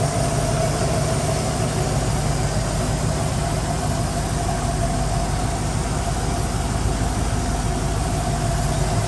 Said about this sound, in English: There we go, idling nicely, no problems at all.